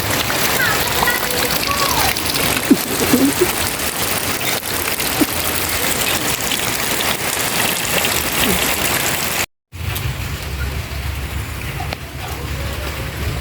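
Steady, dense rain patter fills the whole stretch, a broadband hiss with occasional louder drops, briefly cutting out before resuming with a deeper low rumble.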